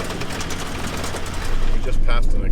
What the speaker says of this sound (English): I wasn't expecting to have corrugations quite this bad out here, but this would be as bad as any dirt road that we've been on.